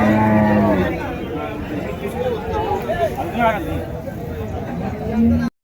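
Cattle lowing at a busy livestock market, moos rising over a steady crowd murmur and nearby talk, with someone speaking throughout.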